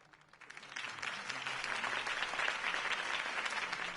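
A crowd applauds after Harvey Dent's campaign speech in a Batman video game; dense clapping swells within half a second and holds steady and moderately loud throughout.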